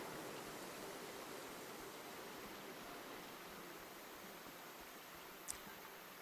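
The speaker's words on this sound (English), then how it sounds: "Another beautiful, like, multi-level waterfall system." Steady broadband rush of a multi-level waterfall in a video game, a constant faint roar of falling water with no speech and one small tick near the end.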